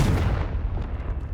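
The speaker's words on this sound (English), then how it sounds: "Confringo!" Confringo spell blast in Hogwarts Legacy, a heavy booming explosion that rumbles low and loud, then decays quickly into a fading crackle within a second.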